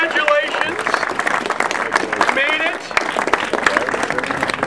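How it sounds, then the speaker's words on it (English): An audience applauds and cheers for graduates of the class of 2018, steady clapping mixed with crowd voices and whoops, moderately loud throughout. "So big round of applause and"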